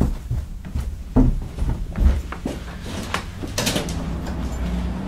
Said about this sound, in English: Just answer the door